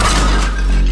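A loud, dense crash as a horse falls and a chariot overturns on a small bridge in an animated scene, a sustained thudding, breaking rumble that fills the whole second.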